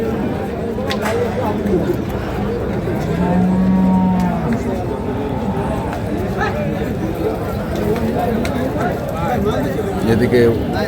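Bulls and cattle at the Khochabari livestock market give a low drawn-out moo amid a busy crowd's chatter, with people talking close by throughout.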